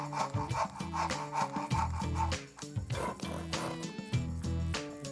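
A hand saw cuts a wooden tenon for a woodworking joint, with steady back-and-forth rasping strokes in a regular rhythm, close and loud with no talk.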